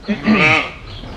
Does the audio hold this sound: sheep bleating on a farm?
yes